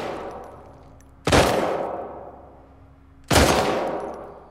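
Two loud, separate gunshots in the video game The Last of Us Part 2, each a sharp blast with a long echoing tail, about two seconds apart.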